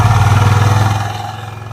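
Yamaha Aerox scooter engine running steadily with a pulsing, slightly clattering idle close to the microphone, tapering off slightly toward the end with no talk over it.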